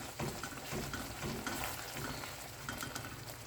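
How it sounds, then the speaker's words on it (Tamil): Spicy tofu sambal paste sautéing in oil in a pan, a soft continuous sizzle with light stirring scrapes, fairly faint and close, no voices. "இது இந்த எண்ணெயெல்லாம் பிரிஞ்சு வர வரைக்கும் இதை நல்லா வதக்கிக்குங்க"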